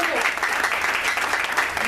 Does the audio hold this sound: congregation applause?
yes